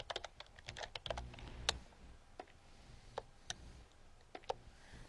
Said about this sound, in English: As soon as I hit a button, a key, then it starts doing something.